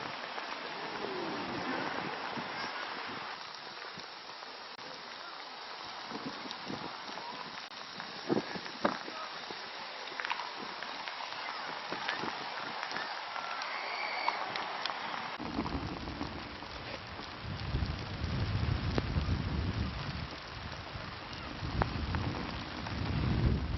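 Steady rain patters and splashes on surfaces in Turkey, with deep thunder rumbling in the background and heavier low rumbling in the later part.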